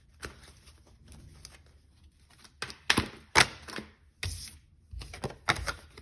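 Tarot cards being shuffled in several bursts of papery riffling and thumps, fairly close, with short pauses between them and no speech.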